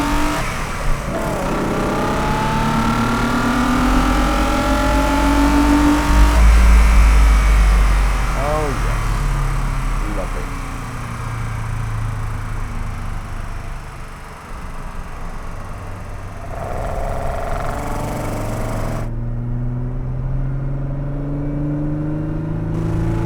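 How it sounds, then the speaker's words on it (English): Fiat 130 coupé V6 engine revs hard in first gear, a loud rising and falling roar close by with a brief sharp climb mid-way, then a steadier drone that drops off near the end. "let's just savour that 130 V6 semi-race bred noise again"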